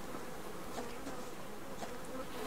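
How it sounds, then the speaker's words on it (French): Bees buzzing in the survival game Subsistence, a steady, continuous drone of several insects heard at moderate distance with no talk over it. "Elles sont en train de bourdonner ici."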